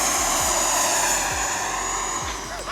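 An FMS Avanti 90mm EDF model jet runs at full throttle, giving a continuous, high-pitched ducted-fan whine that stays loud and steady throughout.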